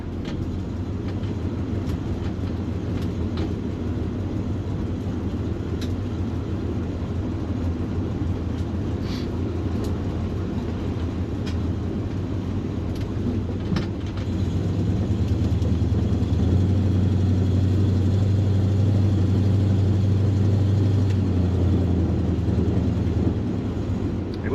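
A 1967 Dodge Dart with a freshly tuned carburetor drives along a neighborhood road, its engine a steady low rumble with road noise that swells louder toward the end, no talking.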